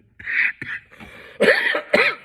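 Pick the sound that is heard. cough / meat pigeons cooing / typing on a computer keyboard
cough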